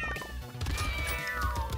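Several cartoonish cat meows from the video game Brotato, layered over busy game music and effects, overlapping and continuous throughout.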